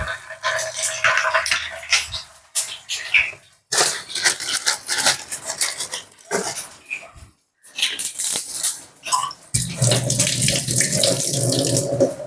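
Running tap water splashes in bursts, stopping and starting several times as curry leaves are rinsed under the flow, close and fairly loud.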